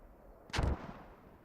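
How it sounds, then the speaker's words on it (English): A single mortar round fired in a video game, a deep booming thud with a brief rumbling tail, set against quiet background ambience. "I think I love the mortars for shooting infantry"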